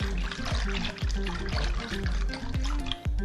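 Soy juice poured into homemade baobab juice, a steady liquid stream with rhythmic gurgling glugs repeating about every half second, close and continuous.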